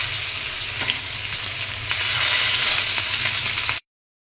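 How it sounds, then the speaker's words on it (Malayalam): Fish frying in a pan in a home kitchen, a steady loud sizzle and crackle with occasional pops that swells slightly midway before cutting off abruptly. "ആദ്യം നമുക്ക് ഫിഷ് ഫ്രൈ ചെയ്യാൻ വെക്കാം."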